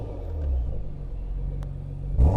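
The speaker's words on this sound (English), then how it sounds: "see if we can get close enough here to get some revs." A 2017 Porsche Macan GTS engine rumbles at idle outside, a low steady growl that rises into a short, louder rev burst at the end.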